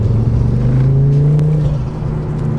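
Ford Focus RS five-cylinder with an accessory exhaust, revving steadily, a loud close droning engine note that rises slightly then eases off, with no talk.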